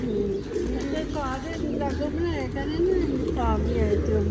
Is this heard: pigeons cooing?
yes